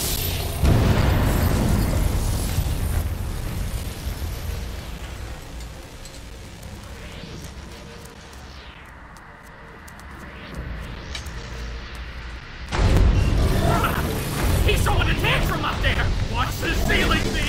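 A boss blows apart in the Devil May Cry 5 video game: heavy booming blasts burst in near the start and again around the thirteenth second, over a continuous rumbling bed of game noise.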